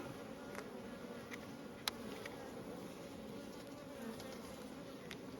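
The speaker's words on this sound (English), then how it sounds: "There's a nice lot of bees up here" Bees buzz over hive frames that are not yet fully drawn out, a soft, steady, faint hum with a few louder passes of individual bees close by, and no talk.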